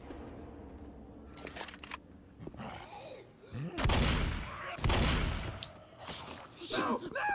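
Gunfire in the zombie shooter game Left 4 Dead comes as a few heavy shots, one after another, separated by quieter game noise.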